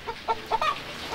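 Free-range village chickens on a chicken farm give a few short, close clucks in quick, uneven succession.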